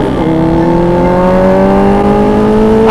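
Yamaha Aerox scooter tuned to 300cc accelerating hard, its loud close engine note rising steadily in pitch as it revs up.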